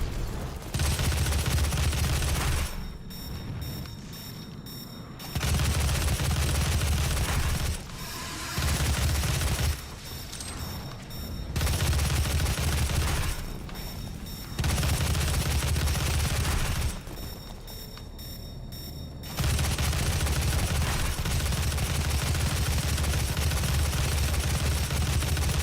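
Rapid bursts of gunfire from the video game Doom 2016 on Nightmare difficulty, loud clustered volleys alternating with brief lulls, mixed with game booms and mechanical effects.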